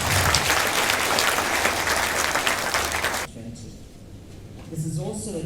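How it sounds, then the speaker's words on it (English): Loud, dense applause from a large audience fills the first few seconds, then cuts off abruptly, leaving quiet room sound and a voice beginning to speak. "Please give her a round of applause"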